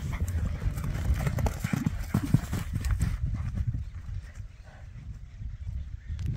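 Horse hooves clip-clop in a quick, uneven rhythm on hard ground at a rural property, fairly close, with some background noise and faint voices.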